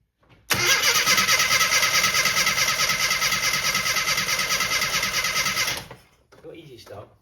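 A Rover Mini's starter cranks continuously and loudly for about five seconds with the engine trying to catch, then cuts off, leaving faint voices and small sounds afterward.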